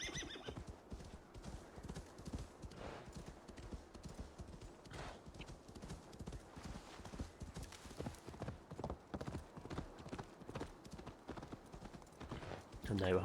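Horse hooves clip-clopping in steady repeated beats in Assassin's Creed Valhalla, with an occasional whinny, heard under someone talking over the game.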